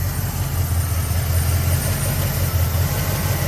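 A carbureted 1990 Jeep Grand Wagoneer engine runs with a loud, steady low rumble, held under throttle at a constant pitch throughout with no voices.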